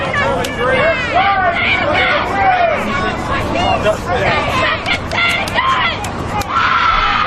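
A woman screams repeatedly in a protest crowd, her voice rising and falling over dense crowd babble and people talking nearby, with the noise staying loud throughout.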